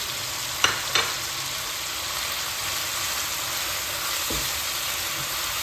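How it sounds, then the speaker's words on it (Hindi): Chicken fries in a pan with ginger garlic paste, coriander, salt, chili and turmeric, giving a steady close sizzle with a couple of sharp clatters of stirring near the start. "अदरक लहसुन के पेस्ट और मसालों के साथ जो है ना मैंने चिकन को मज़ीद फ्राई किए"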